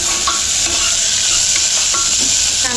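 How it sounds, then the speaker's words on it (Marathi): Onion and curry leaves sizzling in hot oil for a tadka while being stirred in a pan, a loud continuous frying hiss with occasional spatula scrapes, close up and without talk. "त्यानंतर कांदा आणि याला चांगलं परतायचं."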